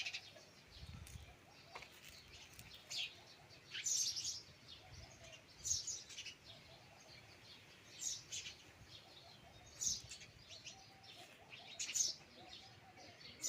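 Short bird chirps ring out at regular intervals over a quiet, hushed outdoor background, each call brief and fairly distant.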